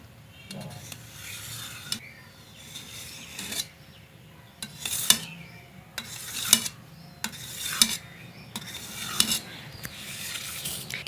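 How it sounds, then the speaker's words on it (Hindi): A knife cuts set jelly into pieces for a Lab-e-Shireen dessert, with a series of sharp scraping, clicking strokes against a dish at irregular intervals, close and fairly clear, amid quiet kitchen handling. "जेली हमारी ठंडी होकर जम चुकी है। अब हम इसको काट लेते हैं।"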